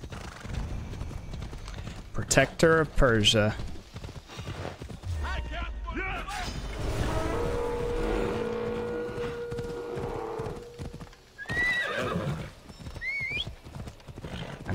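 A horse in Assassin's Creed Odyssey clip-clops along and gives a couple of whinnies over game music, while a player talks over it.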